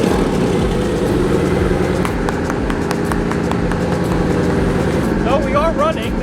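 A sleeper drag car engine in a performance shop, starting and then running with a loud, rough, rapid pulsing idle throughout, with people talking over it.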